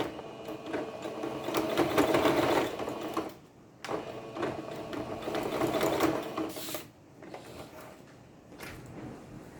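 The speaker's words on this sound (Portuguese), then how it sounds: "eu vou costurar aqui esse restinho de margem" A sewing machine runs close by, stitching the last bit of a fabric seam allowance on a bias binding join. It hums and clatters in two long bursts, with brief pauses and a shorter run at the end.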